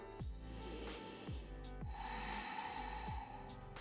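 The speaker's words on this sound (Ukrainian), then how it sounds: "І ще вдих." Several deep, sharp inhales during a yoga pelvic-floor exercise, close and breathy, spaced roughly a second apart.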